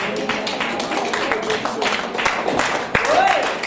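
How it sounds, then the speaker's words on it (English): Church congregation applauding during a worship service, a dense wash of clapping with voices and shouts mixed throughout, steady and moderately loud. "You can go ahead and give the Lord a round of applause."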